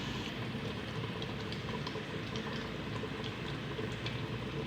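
Hot tadka of oil browned spices poured into cooked mung and masoor dal, giving a steady, soft hissing sizzle that runs alone from start to finish at low volume.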